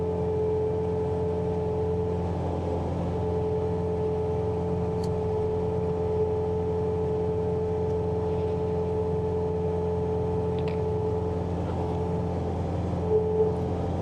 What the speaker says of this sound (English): she's running full throttle